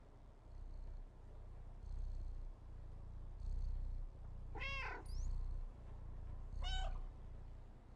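A cat in the video game Stray purrs softly and steadily in a low rumbling rhythm, with two brief meows breaking through near the end.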